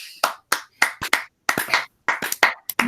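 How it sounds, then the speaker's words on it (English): A small audience clapping at a women's tennis senior spotlight event, sparse and uneven claps in a few separate bursts, close and dry, with no voices. "I was waiting for everyone to clap"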